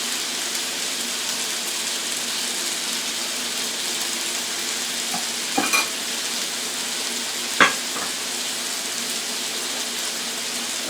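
Hash browns fry on an outdoor grill with a steady, close, broadband sizzle that holds throughout, broken by two brief sharp scraping clicks near the middle and end, with no one talking.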